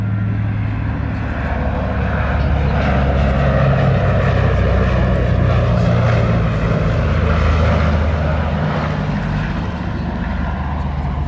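A propeller-driven airplane flying a display at an airshow, its engine drone loud and steady throughout, a dense continuous roar that swells and eases slightly as it passes.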